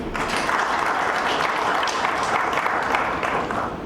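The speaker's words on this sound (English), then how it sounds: "Let's clap for them." Audience at a public gathering clapping steadily for a team, a continuous, even wash of applause heard from within the crowd with no talk.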